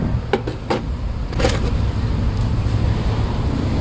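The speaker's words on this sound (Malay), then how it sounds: "Saya akan start dulu kereta." A Perodua Viva's engine turns over with a few quick clicks and catches, then settles into a steady, close idle hum that fills the rest of the moment.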